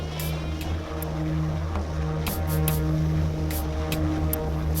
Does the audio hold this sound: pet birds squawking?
no